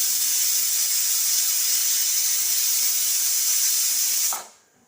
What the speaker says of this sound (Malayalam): അപ്പത്തിന് നമ്മുടെ കുക്കറിൽ നിന്ന് വിസിൽ വന്നിട്ടുണ്ട് കേട്ടോ